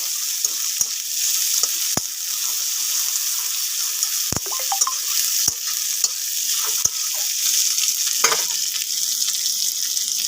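Garlic fries in a pan with a steady, bright sizzle, broken by sharp clicks and scrapes of a utensil stirring. No one speaks.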